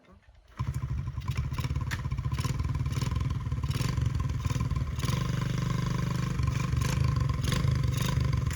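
A 1972 Honda SL70 small motorcycle pulls away from a standstill, its engine note rising and holding steady as it is ridden off, close by and loud, with a brief quiet moment before the engine bursts in.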